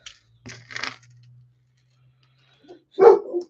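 A short burst of dog barking close by, one or two sharp barks after a quiet stretch, with some faint rustling earlier.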